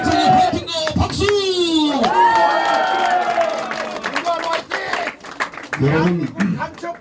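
A rally crowd at a political party leadership event shouts and cheers in rhythmic bursts with scattered clapping, while an announcer's amplified voice leads the chants loudly over the noise.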